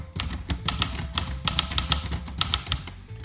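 Rapid, uneven keystrikes on a 1972 Olivetti Lettera 31 portable manual typewriter, each a sharp close clack in a steady typing burst with no voice.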